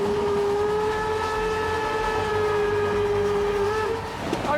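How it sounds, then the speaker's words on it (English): A large Harz narrow-gauge steam locomotive hauls six carriages up a hill, with a steady rolling rumble under sustained whistle-like ringing tones that hold for several seconds and then break off near the end. No voices are heard. "This is one of the largest narrow-gauge locomotives in the world."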